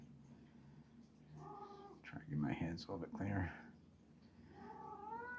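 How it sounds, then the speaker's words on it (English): A pet cat meows and yowls in a drawn-out, wavering cry in a kitchen where gluten-free scones are being made, rising over a person's talking and fading as the speech continues. "now I have another singing kitty"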